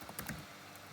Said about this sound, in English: Now we are typing in the where clause.